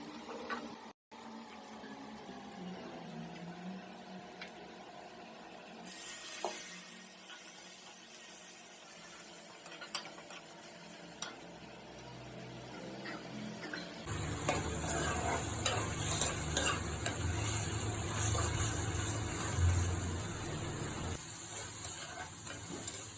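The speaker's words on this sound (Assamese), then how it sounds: "গোটেইখিনি মছলা দি কেনে ভালকৈ মছলাখিনি মই ভাজি লৈছোঁ" Spice masala frying and being stirred in a pan for a kosu (taro) dish, a steady sizzle that grows louder and denser partway through, with scraping stirs and no voices.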